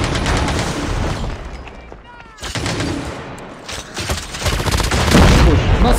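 Rapid gunfire bursts crackle through a Call of Duty Mobile battle royale match, near and loud, with a brief lull before the shooting resumes in dense volleys while players talk over the action.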